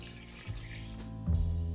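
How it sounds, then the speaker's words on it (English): Tap water runs steadily into a large pot being filled for a spicy beef noodle soup broth with beef shank, scallions and ginger, the pitch rising slightly as the pot fills, close and alone. "And then I'm just going to fill it up with water."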